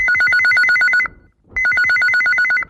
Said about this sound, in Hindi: फोन के घंटी हा बाजल